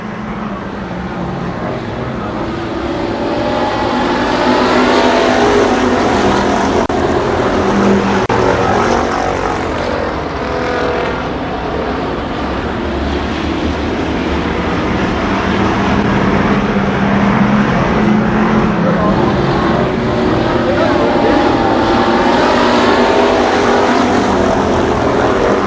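Winged sprint cars racing at Columbus Motor Speedway in 1993, a continuous loud engine roar that swells and holds steady as the pack circles the track, with no voices over it.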